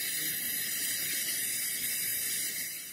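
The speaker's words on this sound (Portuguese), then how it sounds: "É um spray excelente." Continuous hissing mist from a spray bottle applied to patchwork fabric, a steady, fairly loud spray lasting the whole stretch and tapering off at the very end, with no talking.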